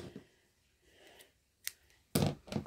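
Scissors snipping crochet yarn, a faint close clip followed by a couple of sharper snips near the end in an otherwise quiet room.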